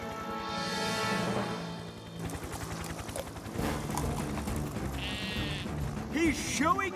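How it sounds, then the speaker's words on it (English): Sheep bleat loudly a few times amid music and animated sound effects, with a voice speaking briefly. "What are you doing, little sheep?"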